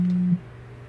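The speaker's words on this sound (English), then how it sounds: "Sorry, that was my phone." A mobile phone alert gives one short, steady low buzzing tone lasting about a third of a second, close and clear, then cuts off into faint room hum.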